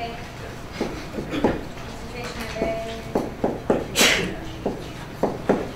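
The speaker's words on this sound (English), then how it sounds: "Gesundheit, whoever sneezed." A single sharp sneeze bursts out partway through a chemistry recitation class, amid scattered knocks, taps and background talking.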